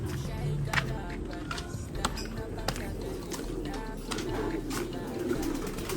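Racing pigeons cooing in a loft, soft repeated low coos close by over a steady noisy background with occasional sharp clacks.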